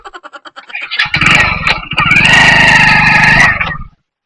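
A motorcycle engine follows a few quick clicking ticks, then fires up and rumbles loudly and close for a few seconds with a steady revving drone before cutting off abruptly into silence.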